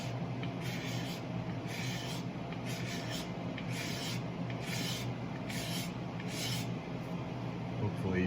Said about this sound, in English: hold this at a bit of an angle, and I'm going to scrape.